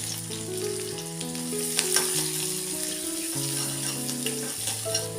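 Finely chopped shallots fry in hot coconut oil for a Kerala-style kadala curry, a steady close sizzle with light crackles and occasional stirring taps under faint background music.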